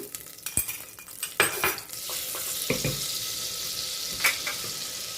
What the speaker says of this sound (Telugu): సో ఆయిల్ వేసిన తర్వాత దాంట్లో ఈ బటర్ వేసేద్దాము